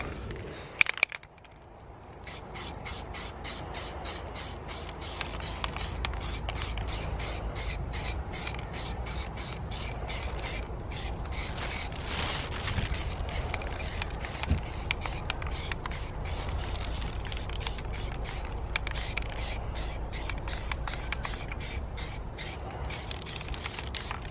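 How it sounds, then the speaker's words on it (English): An aerosol spray can sprays paint onto brake calipers masked off with sheets at home, making a steady, close hiss in repeated short bursts with brief pauses, preceded by a couple of sharp clicks at the start. "it's just a case of going ahead and painting it now."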